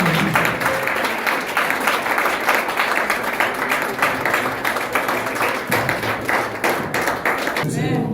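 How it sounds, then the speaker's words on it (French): A church congregation applauds and acclaims the Lord during a crusade service, steady dense clapping and crowd noise filling the space throughout, with a voice calling out over the applause. "Tu acclames le Seigneur"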